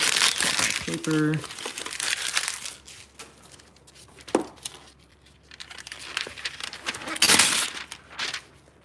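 Paper crumpled and crinkled close by in several crackling bursts, with voices talking alongside.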